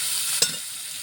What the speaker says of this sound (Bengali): চিংড়িটা লাল লাল করে ভেজে দেবো